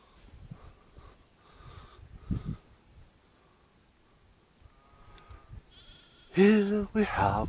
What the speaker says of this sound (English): Here we have the Pendle sheep, foraging on the land.